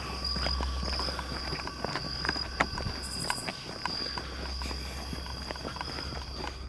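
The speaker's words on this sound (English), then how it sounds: "Dude, I hear somebody walking, and it's not our freaking footsteps." Footsteps crunch through a wooded area at night, a steady run of irregular soft steps at moderate distance, with a constant high insect drone and low background hum throughout.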